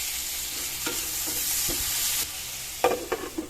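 Tomatoes dropped into hot oil with garlic, onion and ginger sizzle steadily while being stirred, with a few sharp spatula scrapes and pops near the end, close and alone.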